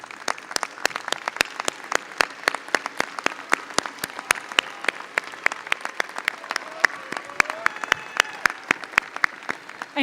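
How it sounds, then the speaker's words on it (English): A commencement audience at a University of North Texas fall ceremony applauds steadily, with sharp, dense hand claps filling the hall for the full stretch and a few scattered voices underneath. "join me in applauding those who helped you earn your degree"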